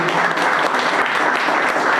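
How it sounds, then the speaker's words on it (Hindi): A Sunday church congregation claps together to welcome God, a loud, dense and continuous round of applause close by. "आइए हम परमेश्वर को धन्यवाद देंगे, ताली बजा के उनकी स्वागत करेंगे।"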